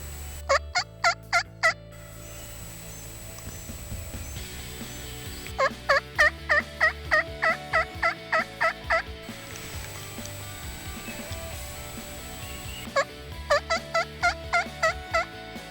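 Wild turkeys in the Georgia woods gobble loudly in three separate bursts, each a rapid rattling run of calls, fairly close, with quiet outdoor ambience between.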